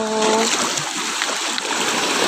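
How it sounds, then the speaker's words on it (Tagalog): Sea water at high tide at night on a shore, a loud continuous wash of splashing and churning water close by, with brief tonal voice sounds at the very start. "The sea was so high."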